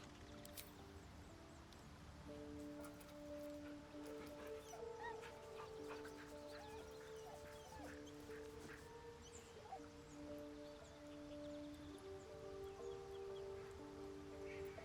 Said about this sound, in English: Pet the dog.